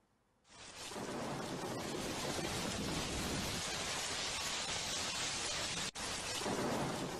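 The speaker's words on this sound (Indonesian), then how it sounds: "Hujan deras disertai angin kencang melanda permukiman di 3 kecamatan di Kabupaten Majalengka" Heavy rain lashes a residential area in Majalengka Regency, West Java, driven by strong wind: a dense, steady roar of downpour and gusts sets in within the first second and holds loud and unbroken throughout, with no talking.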